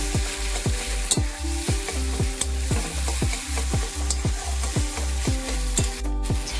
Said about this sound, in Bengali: ছানাটা দিয়ে কষিয়ে আমি একটু ভাজা ভাজা করে নিচ্ছি